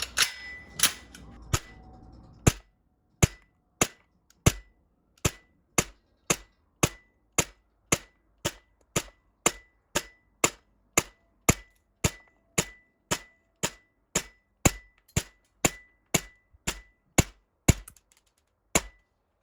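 Tokyo Marui MWS gas blowback airsoft rifle firing 0.2 g BBs on green gas, about twenty-five sharp, crisp shots in a steady semi-automatic rhythm, each a clean crack with short ring, after a brief stretch of handling noise.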